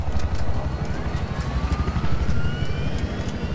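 A helicopter in the Battlefield 4 video game flies with a steady low, throbbing rotor chop and engine rumble, loud and continuous, with no talk over it.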